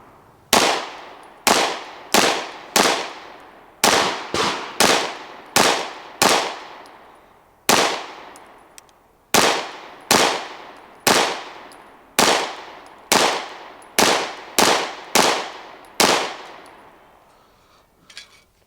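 A Bul Armory EDC Pro pistol firing its first shots at an outdoor range, a long series of about eighteen sharp, loud cracks in uneven bursts, each with a short ringing decay, and no talking.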